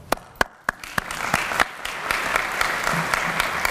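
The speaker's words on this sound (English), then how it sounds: "Let's give them a round of applause." Audience applause at a health-professionals student closing session, opening with a few separate sharp claps that quickly swell into steady, dense clapping from a large crowd in a hall, sustained to the end with no talking.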